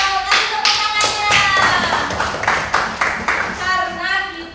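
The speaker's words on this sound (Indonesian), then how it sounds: "Kasih tepuk tangannya." Pupils in a classroom clap in a quick rhythmic burst of several beats, close and loud, with a teacher's voice over the clapping.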